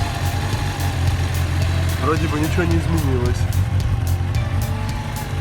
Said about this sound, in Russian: Звук двигателя.